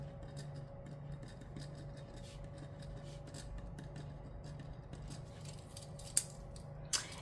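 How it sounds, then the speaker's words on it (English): Soft, continuous scratching of a Pilot Fusion pen writing on planner paper, faint against a low steady hum, with a couple of sharper taps near the end. "I'm going to go ahead and write with the Pilot Fusion."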